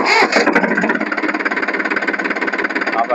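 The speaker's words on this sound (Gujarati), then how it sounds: "અમે હવે ટ્રેક્ટર ચાલુ કરવા જઈ રહ્યા છીએ." A tractor engine starts and runs, its loud, steady mechanical rumble with a rhythmic knocking pulse continuing alone close by.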